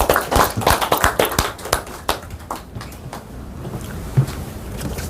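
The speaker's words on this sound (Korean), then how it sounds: "우리 회장님 나오시는데 박수를 좀 환영해 주세요" An audience claps to welcome the chairman at a university emeritus professors' lecture, a burst of close crisp clapping that thins out and fades after a couple of seconds.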